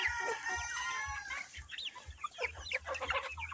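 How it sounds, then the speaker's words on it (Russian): In a home poultry yard with two-month-old Liven marbled chickens, a rooster and hens cluck repeatedly at close range, with brief crowing-like calls over low rhythmic thumps. "Вот петушок подошел тоже."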